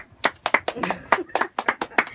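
A small audience claps hands in a quick burst of sharp, rhythmic slaps close by, mixed with voices.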